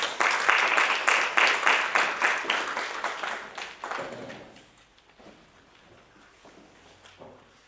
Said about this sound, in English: Can we please give him or her a round of applause?